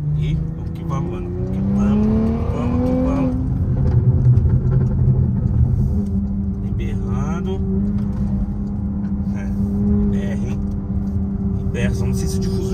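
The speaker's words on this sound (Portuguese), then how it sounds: "Eu acho que o carro tava fazendo mais barulho." A car engine drones while driving, with rising and falling engine tones and a steady rumble close by, and people talk over it throughout.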